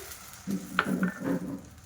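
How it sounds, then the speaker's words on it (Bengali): Water poured from a bowl onto sugar in a hot wok for sugar syrup, giving a sudden sizzle that rises and fades in two or three bursts, close and moderately loud, with no voices. "তো আমি ওই বাটিরই 1 বাটি জল দিয়ে দিলাম।"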